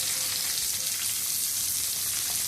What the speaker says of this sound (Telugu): వేగుతున్నాయండి.